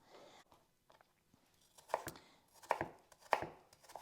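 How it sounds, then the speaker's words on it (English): A knife slicing peeled Granny Smith apples on a board, quiet close crunchy cuts that start sparse and grow into several firmer chops toward the end. "I'm going to cut them into little slices"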